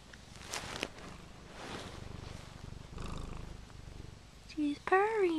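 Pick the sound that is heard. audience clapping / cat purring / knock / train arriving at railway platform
cat purring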